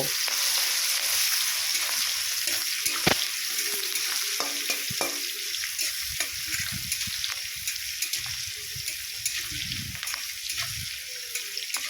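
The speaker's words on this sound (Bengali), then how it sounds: "কড়া তেলের মধ্যে দিয়ে দিলাম পেঁয়াজ কচানো পেঁয়াজ কচানোগুলো দিয়ে খুব সুন্দর করে নেড়ে চেড়ে নেবো" Chopped onions sizzle and fry in hot oil for about twelve seconds, with steady crackling throughout and repeated scraping stir strokes. Occasional louder knocks are heard close by.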